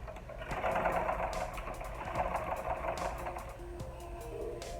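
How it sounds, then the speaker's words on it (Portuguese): Sewing machine running steadily, stitching a safety seam along a pearl-trimmed baby shoe from the heel, a continuous close mechanical whir with a rapid needle rhythm and no talk. "E vou fazer a costura de segurança na peça toda."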